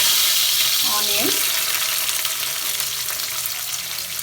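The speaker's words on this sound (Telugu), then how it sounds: "వేసి ఫ్రై చేసుకుందాం." Green chilies and onion fry in the oil left from frying paneer, hissing and sizzling loudly and steadily up close, with one brief scrape of stirring near the start.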